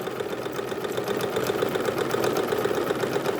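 A sewing machine runs a steady, continuous stitch, reversing to backstitch at a marked point while sewing a fabric strap; the motor hum and needle clatter stay even and fairly close throughout, with no talking.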